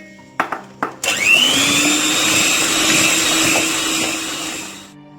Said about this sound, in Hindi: थोड़ी सी कैस्टर शुगर इसमें डालेंगे और फिर मैं इसको बीट करूंगी।